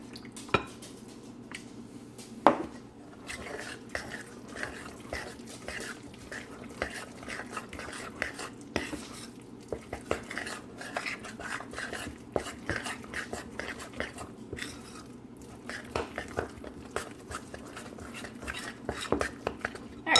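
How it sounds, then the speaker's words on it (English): Batter for homemade healthy treats stirred in a bowl, with repeated scraping and clinking of a utensil against the bowl in an irregular rhythm, close and moderately quiet, with no speech. "Keep on mixing until we get that consistency we're looking for"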